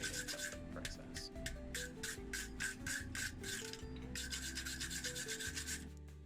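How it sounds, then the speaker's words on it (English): A flap sanding disc on an angle grinder scrubs forge scale off hand-forged steel punch stock, a steady close rasping grind in repeated strokes with a constant motor whine underneath. "I use a flap sanding angle grinder disc just to remove that forge scale from the end of the surface"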